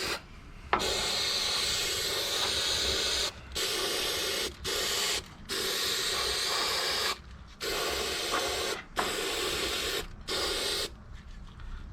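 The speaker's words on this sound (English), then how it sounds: "I'm just gonna spray it in there" POR-15 rust coating hissing from a spray can onto a car frame in several long bursts with short pauses between, close and steady, no voices.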